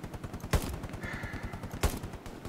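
Machine gun bursts from the World War II shooter Hell Let Loose, sharp loud cracks standing out over a steady rattle of distant automatic fire, with a high whining tone in between.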